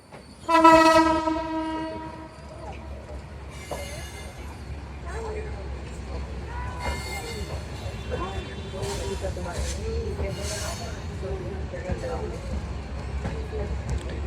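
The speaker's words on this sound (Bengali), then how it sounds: "আমাদের ট্রেনটি এখন জুরাইন রেলগেটের কাছে চলে এসেছে" A loud horn blasts from the Rupsha Express passenger train bound for Benapole, then the steady rumble and clatter of the moving train continues near the Jurain rail gate in Dhaka while a voice talks over it.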